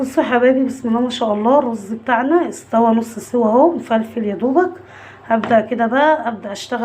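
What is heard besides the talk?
No distinct noise like a dog, phone or traffic.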